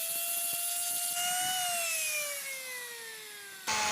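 A power tool grinds steadily at a cylinder head surface, its high whine slowly dropping in pitch as it bears down, loud and close, then jumping back up sharply at the very end.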